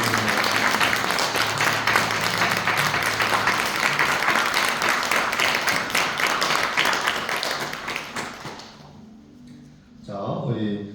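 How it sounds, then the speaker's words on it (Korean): Big applause from a church congregation during a Sunday service, loud sustained clapping that fades out near the end, followed by a brief voice. "우리 목자분들 인사하고 들어갔을 때 큰 박수 부탁드립니다"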